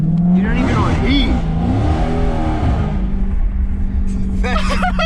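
A 392 car with its muffler deleted revs and roars past, engine pitch rising and falling loudly, while people talk and shout over it.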